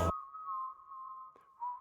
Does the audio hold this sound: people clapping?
no